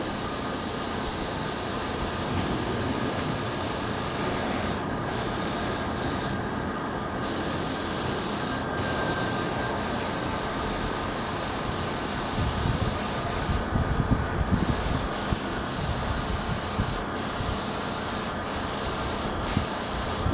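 A spray gun lays clear coat onto a motorcycle wheel in a continuous close hiss that runs for most of the stretch, broken by a few brief pauses and short gaps as the trigger is released.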